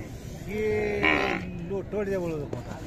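A young Khillar bull calf at a cattle market gives a drawn-out, fairly close moo lasting a couple of seconds, over background market noise.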